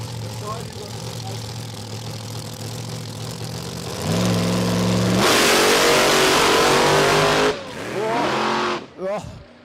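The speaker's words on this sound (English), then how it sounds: "Take that 500 cubic inch flowing hemi altered to the line." Nitro drag racing at Warwick Dragway, Australia: a 500 cubic inch hemi altered launches, with a steady idle giving way to a loud, sustained roar that builds over several seconds, then cuts off into shorter revving bursts.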